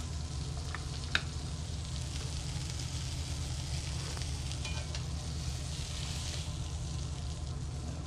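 Fish fillets sizzle steadily in a hot pan, a continuous crackling fry with a low hum underneath and one sharp clink partway through.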